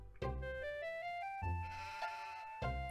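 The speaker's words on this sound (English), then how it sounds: "It's doing sheep noise." A sheep in the horror video game Harvester gives three loud, close bleats at even intervals, each one a wavering, nasal call, with no other sound around them.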